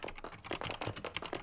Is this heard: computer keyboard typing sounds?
yes